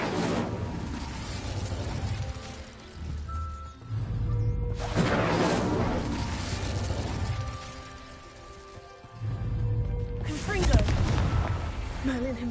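A fire spell cast in a Harry Potter wizarding-school video game: loud whooshing, crackling bursts of flame that swell and fade in three or four waves, with booming impacts over a game soundtrack.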